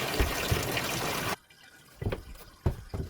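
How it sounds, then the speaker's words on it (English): Bathtub filling from a newly installed shower valve fed by copper and PEX lines: a steady rushing pour that stops suddenly, followed by quieter trickles and sloshing bursts. "now the bathtub is filled with water"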